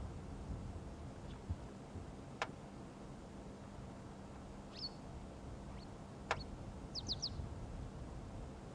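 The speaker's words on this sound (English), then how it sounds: "I'm scanning around hoping to find this bird that we can hear calling" Faint, sparse bird chirps, a few brief high calls including a quick run of three notes, against a low outdoor background hum.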